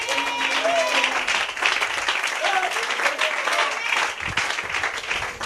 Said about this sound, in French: Donnez-lui une main d'acclamation.